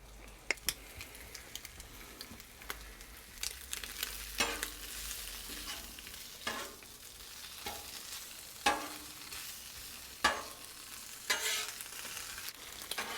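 Eggs and ham fry on low heat on a Blackstone flat-top griddle, a soft steady sizzle punctuated by sharp scrapes and taps of a spatula against the metal surface, close and without talk.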